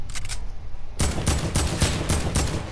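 Rapid bursts of Fortnite gunfire crack out in a steady rhythm of about six loud, close shots, preceded by a quieter stretch with faint distant pops.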